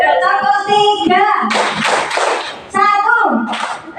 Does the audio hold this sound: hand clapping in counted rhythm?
yes